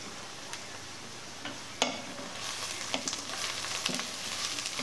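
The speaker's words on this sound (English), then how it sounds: "Just enough to get it frying." Chicken of the woods mushrooms deep frying in oil in a skillet at a moderate heat, giving a steady close sizzle and crackle with scattered sharp pops throughout.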